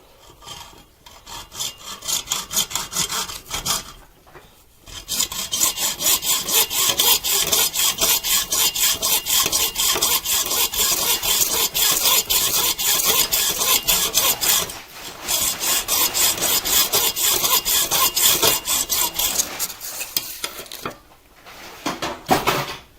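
Wood being hand-sawn during a fabrication build, with steady rapid rasping strokes that run continuously for long stretches and pause briefly a few times; the sound is close and loud, with no talking.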